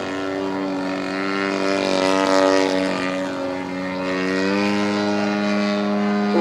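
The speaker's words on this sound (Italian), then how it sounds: "Motore molto potente." A Pitts 12S aerobatic plane's powerful engine drones in flight, a strong buzzing tone with rich harmonics that swells and eases slightly in pitch and loudness as it holds altitude, with no voices over it.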